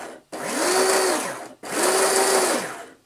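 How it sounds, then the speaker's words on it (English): A radio-controlled motor drives a gearbox on a robotic exosuit power arm in two separate runs, each a whirring electric whine that ramps up, holds steady and winds down, with a short silence between them. "Right, we're just testing out the gearbox."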